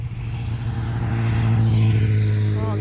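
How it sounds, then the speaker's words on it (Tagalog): A motorcycle speeds past on a road near a riverside spot, its engine whine rising and swelling loud as it approaches, then the pitch shifting as it passes close by. "Oh, ingay naman ang motor."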